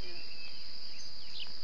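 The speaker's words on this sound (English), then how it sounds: "It's another one of the cicada bird, male." A male cicadabird calls outdoors with a high, thin, buzzy insect-like trill over steady background insect hum, moderately distant.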